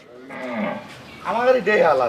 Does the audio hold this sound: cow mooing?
yes